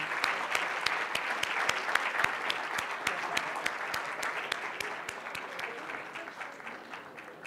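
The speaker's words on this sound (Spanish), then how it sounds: "agradecemos nuevamente con un muy fuerte aplauso a don Eduardo Frey" Conference audience at a university lecture gives strong, sustained applause, a dense wash of clapping with sharp individual claps standing out, slowly easing in volume.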